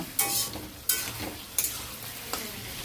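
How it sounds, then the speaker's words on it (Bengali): Taro and potato curry being stirred in a pan after water is added, four sharp scraping strokes spaced about evenly over a steady sizzle, close and fairly loud. "জল দিয়ে একটু নেড়ে দিলাম"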